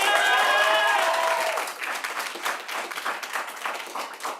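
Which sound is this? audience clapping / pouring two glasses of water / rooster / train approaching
audience clapping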